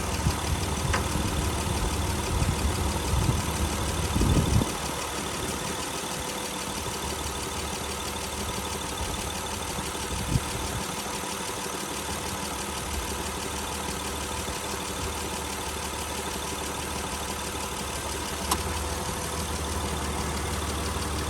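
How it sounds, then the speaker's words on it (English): A 2016 Honda Odyssey EX-L minivan engine idles steadily at close range, a smooth continuous hum with faint mechanical ticking and no voices throughout. "sounds like a good running Honda to me."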